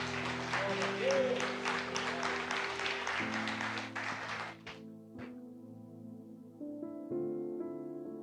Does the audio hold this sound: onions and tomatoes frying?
no